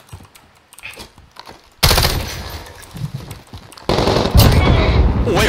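Automatic gunfire in Call of Duty Warzone: quiet scattered shots at first, then loud sustained bursts of rapid fire that swell and crash close by, with a brief lull before a second, heavier barrage.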